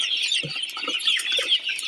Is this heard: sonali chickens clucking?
yes